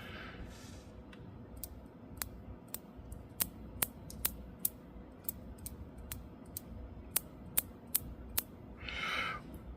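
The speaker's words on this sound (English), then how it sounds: "it's got like clicks, but they're unique. They sound different." A Boderry Admiral GMT bronze watch's unidirectional bezel turned in steps, giving a run of crisp, close, fairly quiet ratcheting clicks at an uneven pace, with soft handling rustles at the start and end.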